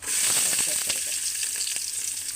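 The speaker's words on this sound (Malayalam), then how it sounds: "ഉലുവ പൊട്ടുമ്പോഴത്തേക്ക് അതിനകത്ത് ചെറിയ ഉള്ളി ഒരു പകുതി കഷ്ണം സവാള ഇഞ്ചി വെളുത്തുള്ളി പച്ചമുളക്" Shallots, onion, ginger, garlic and green chili sizzle loudly in hot oil with fenugreek seeds while a Kerala-style fish curry is being made; a steady close frying hiss with small crackles and occasional stirring, and no voices.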